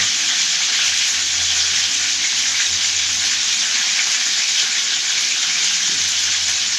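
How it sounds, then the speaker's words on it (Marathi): Prawns frying in hot oil, a loud, steady, hissing sizzle that continues evenly and close throughout, with no voices. "ते बघा आता एक प्रॉन्स टाकले काही दुसरे टाकणार आहे. तेवढं गरम तेलामध्ये ते आई कसे हात घालतात बघा."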